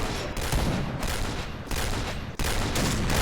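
Rapid gunfire from the DSR-1 sniper rifle in the online shooter Point Blank, with loud sharp bursts that cut in and out across a few seconds of steady, dense game noise.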